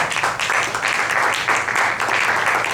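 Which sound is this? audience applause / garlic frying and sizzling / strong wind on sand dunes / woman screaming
audience applause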